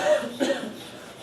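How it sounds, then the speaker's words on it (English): One short, moderately loud cough rings out in a classroom, a brief burst followed by quiet room tone. "No coughing in class."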